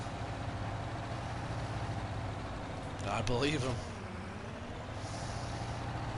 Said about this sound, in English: They say this is the biggest tractor in the world.